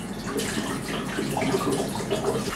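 Tap water runs steadily from a faucet in a Kyiv apartment while a mineral-water bottle is rinsed, giving a continuous close splashing flow with no talk.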